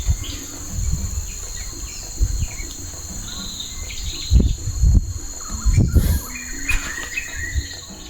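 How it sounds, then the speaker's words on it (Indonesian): Many birds chirp and call across a rural vegetable garden, mixed with a steady high insect drone and a few low thumps close by, the calls coming from several directions at once. "ini kalian dengar banyak banget suara-suara burungnya tuh"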